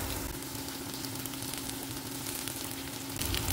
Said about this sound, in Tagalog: Ngayon naman magigis na tayo ng bawang sibuyas at luya.